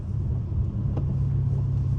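A Dodge Hellcat rolls through a rain-soaked turn, giving off a heavy, steady low engine rumble heard from inside the car, with no talking.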